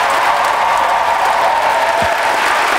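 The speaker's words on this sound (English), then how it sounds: "A warm round of applause for every person that's competing tonight that's going to grace this stage" A steady wash of audience applause for competing poets at a youth poetry slam, broad and continuous with no voices standing out.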